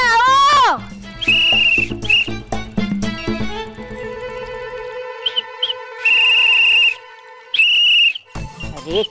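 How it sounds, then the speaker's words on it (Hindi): A person whistles in several loud, clear tonal bursts with rising and falling pitch during a superhero TV series scene, alone without talk. "बोल रहे हो या फिर सीटी बजा रहे हो?"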